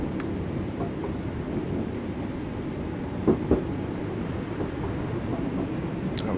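An old London Underground-style Class 484 train on the Island Line in Train Sim World 3 rumbles along steadily, a low continuous rolling drone with a couple of brief clanks and squeaks from the wheels.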